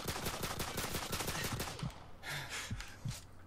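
Rapid automatic gunfire in Call of Duty 4: Modern Warfare, a loud continuous burst of shots that gives way to a few scattered single shots.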